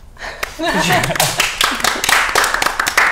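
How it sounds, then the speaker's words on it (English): A small group breaks into applause, scattered claps building quickly and continuing steadily, with some chuckling and voices mixed in. "Should we give her a clap?"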